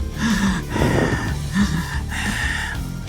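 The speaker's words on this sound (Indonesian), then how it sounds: "Napasnya terengah-engah." Heavy panting breaths come in a quick run of sharp gasping inhales and exhales, close and alone, as a breathing effect in a narrated story.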